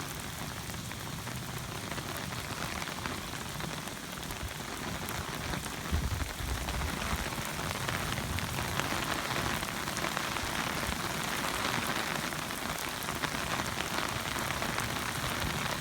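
Torrential El Niño rainfall pouring down steadily, a dense, constant hiss of heavy rain drumming on surfaces close by, with no voices.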